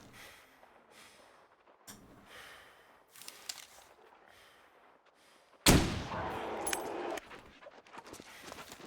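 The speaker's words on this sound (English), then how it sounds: "I'm going to take my first shot now" A single loud rifle shot rings out in the survival game The Long Dark, a sharp crack followed by a short fading tail after a stretch of quiet, soft ambient noise.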